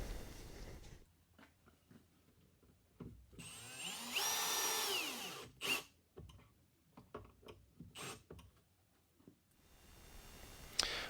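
A power drill drives pocket-hole screws into pine, a strong whirring burst near the middle with shorter drill spurts and scattered clicks and knocks of handling around it, close and quiet overall, with no talk.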